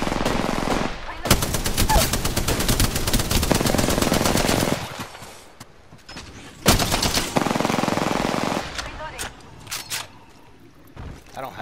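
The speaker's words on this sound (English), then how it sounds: "Shots fired at me." Automatic gunfire in Apex Legends rattles in long rapid bursts with brief pauses between them, loud and close, followed by scattered lighter shots.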